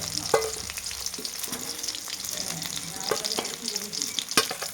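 Spices sizzle and crackle steadily in a hot pan as they are dry-roasted for a fish curry, with occasional scraping stirs cutting through the continuous frying hiss.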